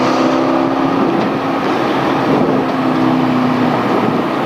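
A race car engine drones loud and close during a ride, a steady throaty roar that holds without breaks, with no talk over it.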